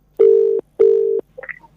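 Telephone tones from a call being placed again after a hang-up: two long, loud steady beeps of equal length separated by a short gap, followed by a brief burst of fainter higher tones.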